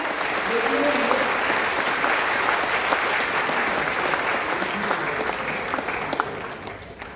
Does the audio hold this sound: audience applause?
yes